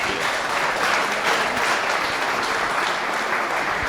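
Audience applause at a live startup pitch event, a dense, even wash of many hands clapping close and loud, sustained for the whole stretch without voices.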